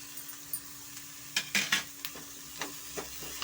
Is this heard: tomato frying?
yes